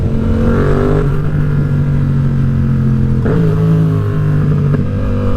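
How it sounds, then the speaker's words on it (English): A Yamaha MT07 motorcycle fitted with a Leo exhaust roars while riding through a tunnel, loud and close, its engine note rising and shifting in pitch through a few gear changes with echoing reverberation. "This bike sounds so good, so good in tunnels."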